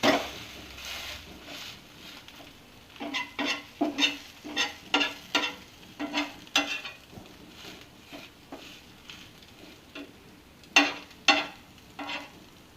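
A bread omelette fries in a pan while a spatula scrapes and flips it, making a series of sharp rhythmic scraping taps over a soft sizzle, close and without talk.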